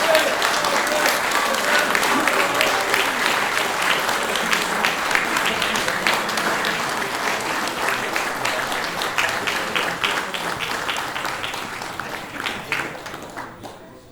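Sustained applause from an audience at an awards ceremony during a medical software users' convention in Poland, dense rhythmic clapping filling the room at steady loudness before thinning and fading out near the end.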